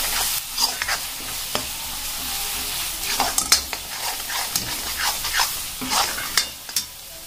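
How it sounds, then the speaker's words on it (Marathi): Masala fries in hot oil for egg curry, with a soft background sizzle broken by frequent close spoon-on-pan scrapes and clinks of stirring in an uneven rhythm. "आता मी तेलामध्ये मसाला ऍड केलेला आहे. आता मसाला आपल्याला छान फ्राय होऊ द्यायचा आहे."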